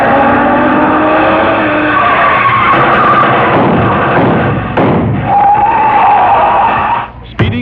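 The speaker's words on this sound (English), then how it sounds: "Speeding toward the same destination is another car" Speeding car sound effect for a vintage radio comedy show: a loud engine roars along with skidding tire squeals and a thump, close and continuous, fading near the end.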